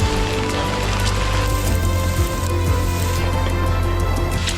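Steady rain pours onto a muddy hiking trail in the Scottish Highlands, a dense, loud, continuous patter and hiss with no voices.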